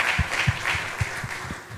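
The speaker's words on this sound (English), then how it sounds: "let's continue the applause" Audience applause at a diaspora homecoming forum after ministers' remarks: a steady crowd clapping with distinct louder hand claps punctuating it about every quarter second, moderately near, no talk over it.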